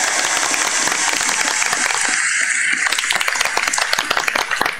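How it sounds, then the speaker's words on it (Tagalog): A crowd at a Philippine event for the President claps and cheers loudly and continuously, a dense wash of applause with shouting voices running through it. "hindi lang po yun palakpak, may dalang sigaw pa po yun"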